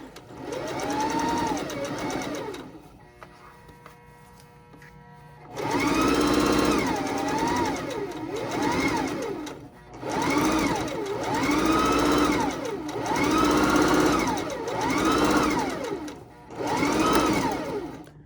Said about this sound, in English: I'm just going to go ahead and stitch, and I'm going to overstitch when I get back to the beginning